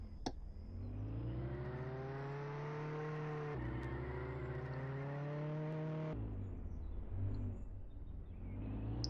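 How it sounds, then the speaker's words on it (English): A Lamborghini in Roblox Jailbreak pulls away with a steady, rising engine whine that climbs through several gear shifts, each step dropping and building again, fairly loud and continuous without any talking. "So here, let's just take this car out."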